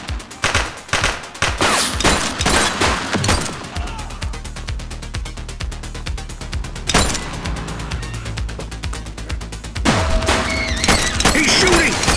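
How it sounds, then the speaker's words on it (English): Gunfire in The Precinct police simulator game, a loud fusillade of rapid shots opening the scene, then sustained engine and street noise with another burst and a crash near the end. "He's shooting!"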